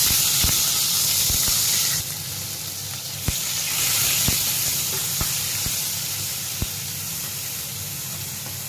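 Onion paste with cardamom and cinnamon fries in hot oil, a steady close sizzle and hiss that swells after a few seconds, with occasional faint utensil taps and no speech.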